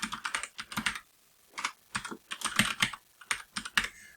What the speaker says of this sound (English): all I have to do is type in the UNC name